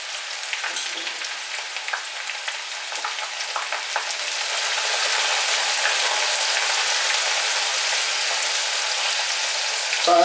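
Bitter gourd sizzles in very hot oil with scattered pops and crackles at first, then the frying hiss thickens into a fuller, constant roar partway through.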